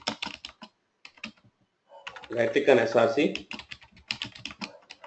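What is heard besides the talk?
typing on a computer keyboard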